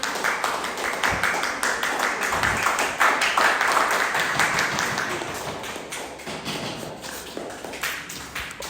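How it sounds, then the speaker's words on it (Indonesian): A classroom audience applauds a student group after its presentation in an Indonesian university course. Dense, sustained clapping from many hands rolls on for several seconds at moderate loudness, swelling slightly midway before easing off, with no talking. "kita berikan tepuk tangan untuk kelompok 2"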